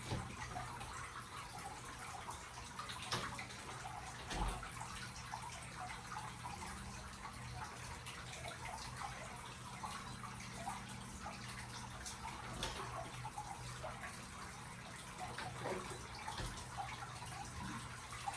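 Water pouring into a three-tier fountain or bird bath, a steady faint splashing and trickling stream running continuously with occasional small knocks.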